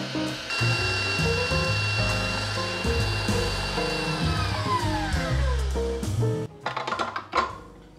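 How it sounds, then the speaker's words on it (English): An electric whisk whips cream in a bowl, a steady loud motor whine that holds for about six seconds, then winds down in pitch and stops, leaving brief clatter. "We're gonna let this whisk, and it's just gonna add air into that, and it's gonna make a whipped cream."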